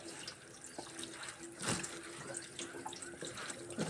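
Water runs steadily from a tap, a continuous splashing hiss into a sink, with a brief louder gush midway.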